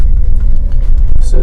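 A 2004 Audi RS6 engine pulls under throttle on a road drive, a heavy, steady low rumble that stays loud and close throughout.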